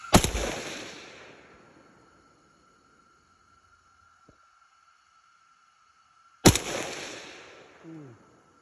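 Two sharp, loud gunshots at an outdoor shooting range, about six seconds apart, each with a long decaying echo and near silence between them; a brief voice follows the second shot.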